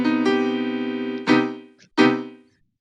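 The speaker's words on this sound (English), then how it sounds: "And then we have an open voicing, which would be more adequate for accompanying other instrumentalists," An open voicing of a minor-major chord rings out as three sustained, harmonically rich chord strikes, the first held long and the next two shorter, the last fading to silence; no talking.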